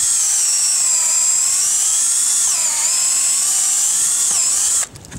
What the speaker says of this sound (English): I'm going to take a drill